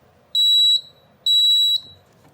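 Two loud, piercing electronic beeps from the piezo buzzer of a Notifier NFS-320C fire alarm panel sound in steady succession, each about half a second long with a short gap between.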